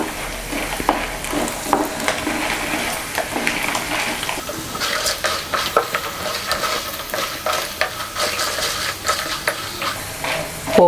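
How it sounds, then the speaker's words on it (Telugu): Peanuts, chana dal and mustard seeds fry and crackle in hot oil for a tamarind rice tempering, a steady close sizzle with stirring scrapes and small pops throughout. "3 వేసుకుని పోపు వేయించుకుంటూ ఉండాలి."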